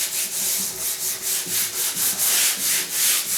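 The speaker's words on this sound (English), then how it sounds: "I'm going to sand the other direction, just to here" Hand sanding a door with sandpaper, a steady rhythmic rubbing stroke repeating roughly every quarter second, close and fairly loud with no talk.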